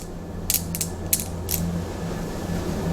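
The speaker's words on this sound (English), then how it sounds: "very carefully screwing this nut on" A metal nut is slowly screwed down to force two strong magnets together, giving a few short dry clicks and creaks over a steady low hum, with no talking.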